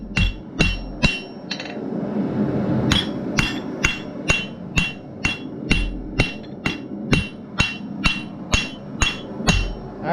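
Side cutters being forged into scrolling tongs with a hammer: a steady, ringing series of sharp metallic blows, roughly two per second, close and loud over a low background rumble, with no talking.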